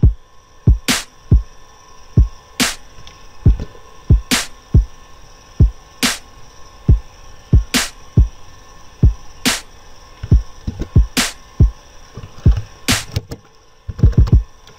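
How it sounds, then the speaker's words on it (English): A simple programmed trap drum pattern from FL Studio thumps in a steady loop of punchy kicks, sharp snares and hi-hats over a faint hum, clean and alone. "So I start out with the simple drum pattern such as this."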